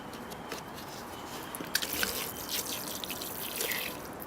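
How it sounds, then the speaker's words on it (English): Water trickling and dripping onto freshly sown seeds and seed mix in a mini greenhouse, soft close wet patters and small drips at low level without speech. "It's time to water them."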